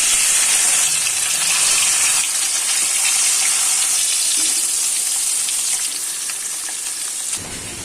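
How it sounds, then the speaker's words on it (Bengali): Turmeric-coated rohu fish pieces fry in hot oil in a wok, giving a loud, steady, close sizzle that carries on unbroken before easing slightly at the end. "তারপর কড়াইতে তেল দিয়ে তেলটা ভালোভাবে গরম হয়ে গেলে মাছগুলো একে একে ছেড়ে দেবো"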